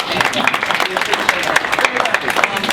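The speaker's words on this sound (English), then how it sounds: "give our informed voters a round of applause for being here" Applause from voters in the audience at a Dolphin Democrats state attorney forum, a steady wash of clapping from a crowd that holds at an even level throughout, with voices underneath.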